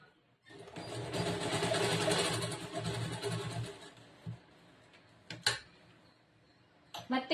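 A sewing machine stitches a blouse with a friend dori and back boat-neck design, running in a steady continuous whir for about three seconds, then stopping, followed by scattered clicks and light handling knocks.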